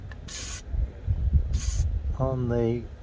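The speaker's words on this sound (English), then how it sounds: "I'm just putting some spray on the" Two short hissing bursts of aerosol lubricant sprayed onto a squeaky window regulator of a Porsche 996 C4S, separated by a pause, followed by a brief squeak, close by.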